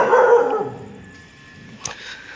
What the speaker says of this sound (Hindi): भाई किसको भौंक रही है भाई तू?